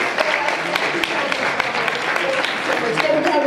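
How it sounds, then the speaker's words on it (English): An audience at a hip hop panel discussion applauds steadily, a dense patter of many hands clapping at moderate loudness throughout. "Somebody that caught a big round of applause."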